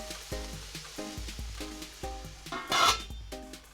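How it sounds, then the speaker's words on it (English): Large thinly sliced onions hit a hot pan and sizzle, with a steady crackle, rhythmic tapping or clicking throughout, and a brief loud hiss burst near the end. Close, no talking. "Begin dropping in 2 large thinly sliced onions."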